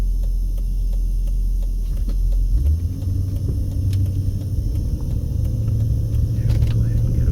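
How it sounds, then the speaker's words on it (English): A truck passes on a Las Vegas street, its low engine rumble building steadily and holding loud and close for several seconds amid general road noise. "Wait for this truck."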